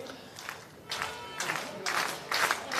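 A crowd at a professional padel tournament applauds between points, heard faintly and at a distance as a few soft surges of clapping that rise and fall over about three seconds.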